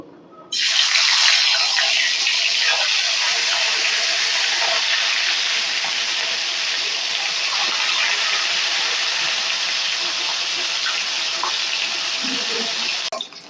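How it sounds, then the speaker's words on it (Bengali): Fish sizzling steadily in hot mustard oil in a wok, a dense, loud, unbroken frying hiss that runs about twelve seconds, with no talking. "তেলটা গরম হয়ে গেছে মাছগুলোকে এখন আমি ভেজে তুলে নেব"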